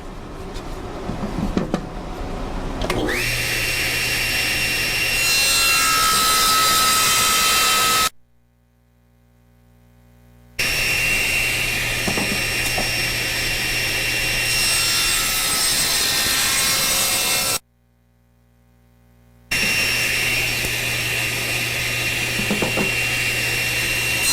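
Sawing the three remaining sides of a handmade wooden jewelry box, with a loud, steady high-pitched power-saw whine running in long stretches broken by two short silent gaps.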